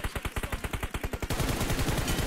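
Rapid automatic gunfire in a mobile battle-royale shooter, a steady burst of evenly spaced loud shots for over a second, then a denser, overlapping barrage of fire continuing to the end.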